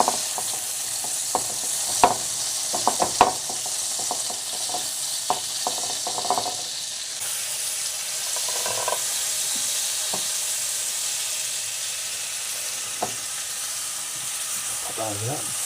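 Mushrooms frying in butter in a pan, a close continuous sizzle with scattered pops, clicks and stirring scrapes, loudest in the first seconds then settling into an even crackle.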